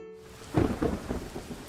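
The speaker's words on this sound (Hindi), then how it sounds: "खिड़की से बाहर देखा तो तेज बारिश थी" Heavy rain pours steadily while a deep roll of thunder rumbles through it, loud and close, with no voices.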